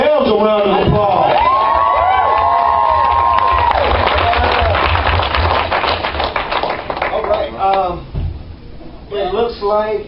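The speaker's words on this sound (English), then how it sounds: "Give yourselves a round of applause." An audience at a Walking Dead fan seminar claps and cheers, with a whistle early on, then the clapping thins and voices talk over the tail end.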